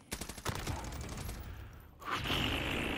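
Rapid bursts of video game gunfire crackle in quick succession for about two seconds, then give way to a sharper, brighter burst of shooting, loud and close with no talking.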